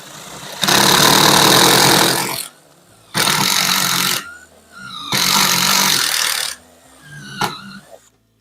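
Power drill boring through stacked pine wood pieces, three loud sustained bursts of drilling separated by short pauses, with a brief fourth burst near the end, close up with no talking.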